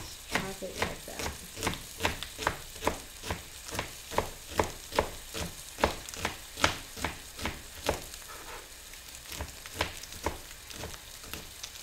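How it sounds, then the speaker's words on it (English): A knife chops tightly rolled Swiss chard on a cutting board in a steady, even rhythm of about twenty sharp, close strikes, with no talking. "And then just chop it like that."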